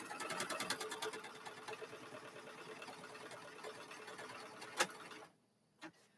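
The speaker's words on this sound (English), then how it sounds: "I'm going to run that stitch one more time just to give it that extra stitch there." A sewing machine runs a stitch in a rapid, steady mechanical chatter for about five seconds, then stops, followed by a couple of faint clicks in near silence.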